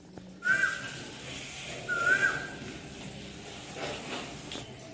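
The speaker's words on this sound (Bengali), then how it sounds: "সঙ্গে কোকিল ডাকছে।" On a rainy morning, an Asian koel gives two rising, whistled calls a little over a second apart, fairly faint against a quiet, damp background.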